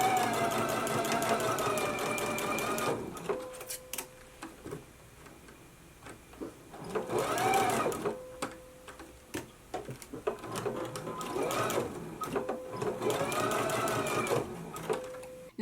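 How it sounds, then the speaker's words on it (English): A domestic sewing machine bastes the waistband onto a McCall's 7330 jumpsuit in loud, close bursts of rapid whirring stitching, separated by brief pauses and clicks between runs. "we can go to the machine and baste this in place"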